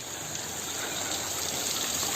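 A clear stream flows steadily in a landslide-hit village in Sukajaya, Bogor, making a continuous gushing rush of water, close and unbroken, with no voices.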